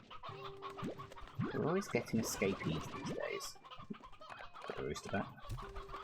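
Chickens cluck in a pen in the Slime Rancher 2 video game, a busy run of short fowl calls through the middle of the clip, with someone talking over them.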